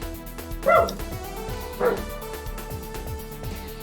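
A dog barks twice in quick succession, loud and close, then a second short bark follows about a second later, over a steady background of music.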